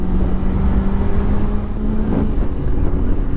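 A Kawasaki ZX25R motorcycle rides through Tokyo at night in the rain: a steady engine hum with a low droning tone, mixed with rushing wind and wet road noise, continuous and fairly loud throughout.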